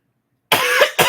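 A person coughs twice in close succession, loud and near, a harsh burst followed by a shorter second cough after a brief silence.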